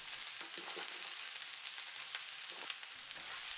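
Carrots, pepper, mushrooms and napa cabbage stir-frying in a pan produce a faint, steady hiss of sizzling with light crackles throughout, and no voices.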